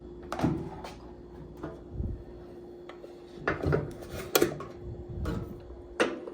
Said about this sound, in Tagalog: So now, we can put this one in the Black & Decker bread making.